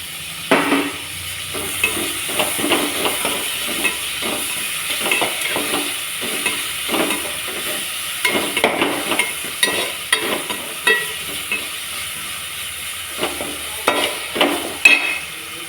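Tomatoes sauté in a pan for egg masala, with a light sizzle under repeated scraping and stirring strokes that come in irregular bursts. The sound is close and moderately loud, with no speech.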